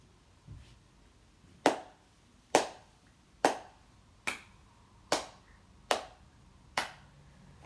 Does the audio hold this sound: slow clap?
yes